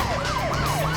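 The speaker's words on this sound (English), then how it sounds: "Let's turn on our sirens now." A police car siren in the BeamNG.Drive video game wails in a rising-and-falling cycle, loud and close over a low engine hum.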